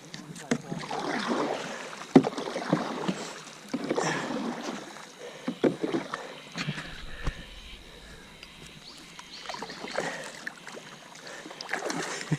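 A canoe or kayak is paddled on water near Springbrook National Park at dusk, giving soft, rhythmic splashes and swishes under wind noise, faint and close, with people talking quietly.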